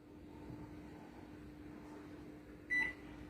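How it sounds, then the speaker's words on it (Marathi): A microwave oven runs on a ten-minute timer while heating sweet potato slices, giving a steady, faint, low hum, broken once by a short, sharp beep. "हे मायक्रोवेव्ह मध्ये आहे मी आता दहा मिनिटाचा टायमर लावते"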